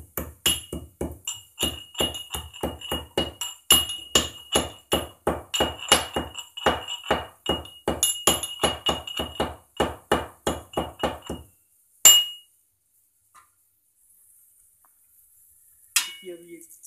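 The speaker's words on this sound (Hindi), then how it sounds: "जो हमने काली मिर्च और लौंग ली हुई है इसको हम थोड़ा सा क्रश कर लेंगे" Black pepper and cloves crushed for a matar paneer masala, a long run of sharp, rhythmic clinking pounding strokes about twice a second, then silence with a couple of isolated knocks at the end.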